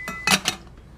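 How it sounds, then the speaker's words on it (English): Two quick metallic clinks as a metal lid settles onto a canteen cup on a stove, close and bright, then a brief ringing fade. "We're going to put the cover on"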